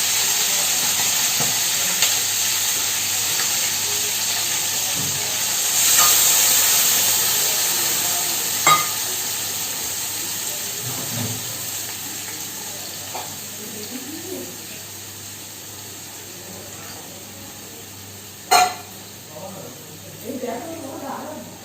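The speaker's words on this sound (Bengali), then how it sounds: "মাছগুলো আমি বেশি ভাজবো না, অল্প ঝালটার মধ্যে একটু করে নিলে এরকম ভেজে নেব।" Sardines frying in a little spicy oil in a pan, a faint ongoing sizzle and hiss with occasional sharp clinks of a utensil, close, with a voice talking over it at times.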